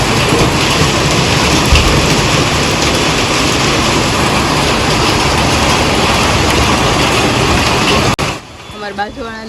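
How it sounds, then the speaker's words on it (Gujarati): Heavy rain pours down steadily on a flooded garden where flower pots have filled with water, a loud dense hiss that runs unbroken before cutting off near the end, followed by brief faint sounds. "બહુ જ વરસાદ છે તો કુંડા પાણી નાખા ભરાઈ ગયા."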